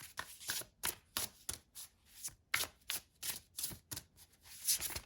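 Oracle cards being shuffled by hand in a quiet room, a series of crisp riffling bursts in an uneven rhythm, each one short and close, with no talking.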